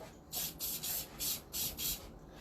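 Adhesive spray hissing from an aerosol can onto a board, in five or six short bursts of roughly a third of a second each, close and fairly loud with brief pauses between and no talking.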